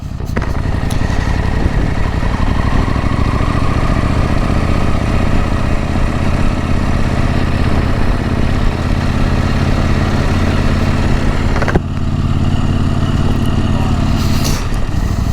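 A KTM 890 Adventure R motorcycle is ridden in the rain. Its engine drones steadily at cruising speed for the whole stretch, with wind noise and a brief sharp transient near the end, while a rider's voice is faintly present.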